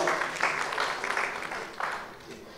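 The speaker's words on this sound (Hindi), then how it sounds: "A big round of applause for Shri Mukesh Bhatt." An audience at a film tourism conference applauds Mukesh Bhatt, a loud, dense burst of clapping from a hall crowd that surges in waves and then tapers off slightly.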